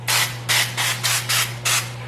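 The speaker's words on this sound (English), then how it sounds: "I'm going to spray it with this. I just want to make sure nothing sticks." Non-stick cooking spray hissing into a cake pan in six short, loud bursts, each about a quarter second long with brief gaps, over a steady low hum.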